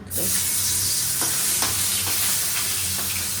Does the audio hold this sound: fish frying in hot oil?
yes